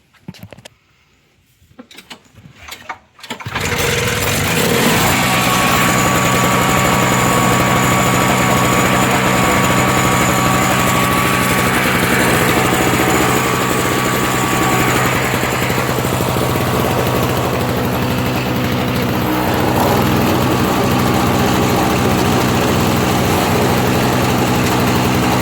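An MTD snow blower engine, started at about half choke for a not-so-cold day, runs loud and steady after a few seconds of quiet handling noises, holding a continuous rough idle drone with no talk.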